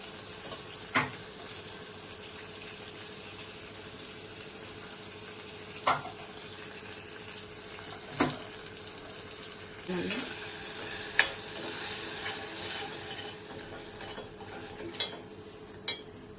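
Masala paste of coconut, peanut, onion and roasted sesame frying quietly in a pan, a soft steady sizzle punctuated by occasional sharp clinks of a spoon against the pan.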